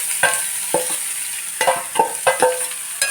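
Grated coconut mixture with curry leaves, tipped into a pan of tempered green gram for Kanyakumari-style puttu and stirred, giving a steady sizzle broken by several distinct scraping stirs, close and fairly loud, with no talking.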